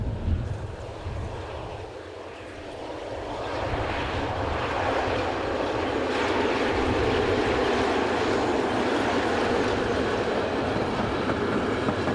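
An Italian FS class 424 electric locomotive hauling a local train rumbles past, a broad steady roar building slightly and holding, with wind noise over the rolling hum, no voices.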